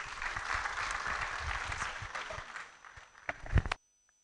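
Audience applause at an inaugural university lecture, a broad crowd clapping that holds steady, thins out with a few last claps, then cuts to silence.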